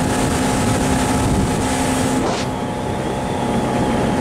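Outboard motor of a 17-foot bay boat cruising at 4,000 RPM, a loud steady drone with rushing water and wind, continuous and close throughout.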